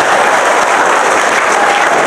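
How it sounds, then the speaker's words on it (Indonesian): Church congregation applauding together, a steady dense wash of clapping held at an even level for a couple of seconds with no voices over it. "Tepuk tangan dulu."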